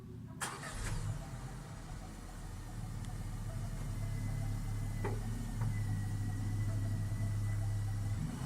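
A 2018 VW Polo 6 with a 1-litre 95 hp engine starts with a sharp burst, then settles into a steady, close mid-pitched hum that builds slightly, with a few light clicks along the way.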